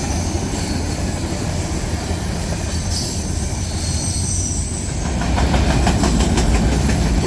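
A freight train carrying an argon tank car and a rail switch on a flat car rumbles past close by, wheels clattering and squealing on the rails in a continuous roar, growing slightly louder toward the end.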